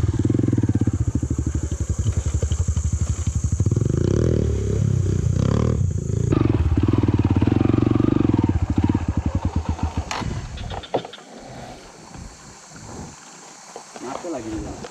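A motorcycle on a night cross-country trail revs loudly and rumbles close up, its engine pulsing hard before dropping away, with people talking under and after it.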